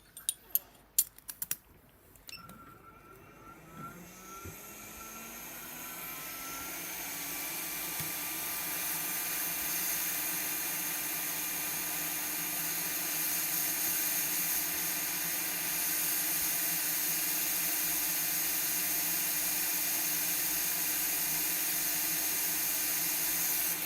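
Hot air rework station blowing steadily while desoldering a chip from a MacBook Pro board, a continuous airy hiss that builds after a few sharp clicks and handling noises at the start, then holds level and close.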